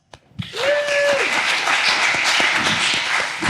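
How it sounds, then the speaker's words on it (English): Startup pitch event audience applauding as the next founder comes up, dense steady clapping that swells in after a brief whistle-like cheer and holds loud throughout. "let's bring our next founder up. Round of applause."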